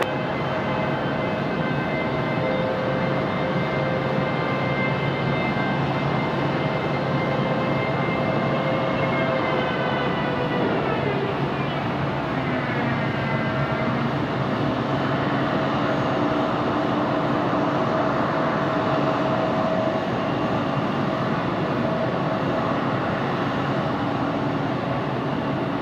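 Airliner touching down and rolling out on runway 5 Right at Raleigh-Durham International, a steady broad roar with a descending engine whine midway as thrust changes, heard from a distance with no talk.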